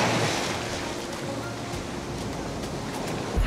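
Strong ocean surf at a surfing beach in La Union rushes and crashes as a loud, continuous roar of breaking waves, with wind buffeting the microphone and no voices.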